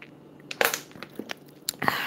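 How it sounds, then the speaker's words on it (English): Crackly plastic crinkles and pops in short irregular bursts, close up, like a water bottle being squeezed, with a quiet background between them. "So what you're hearing is like a bottle of water right there."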